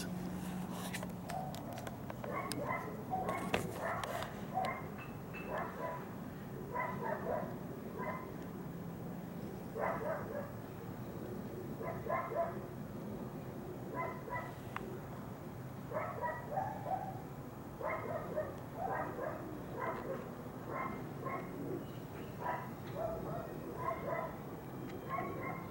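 Distant dogs bark repeatedly in an irregular rhythm, bursts of yips and barks continuing throughout against a faint outdoor background.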